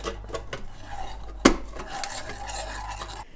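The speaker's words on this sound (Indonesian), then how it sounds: "aku pakai 4 sendok susu powder terus kita aduk sampai merata" A spoon stirs powdered milk in a cup or bowl, giving a steady run of close, soft scraping and clinking, with one sharper knock of metal against the container partway through.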